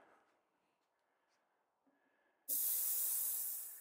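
An ultrasonic cleaner, filled with vinegar and holding bike parts such as a brake caliper, switches on abruptly after a quiet stretch and gives off a loud, steady, high hiss until the clip ends.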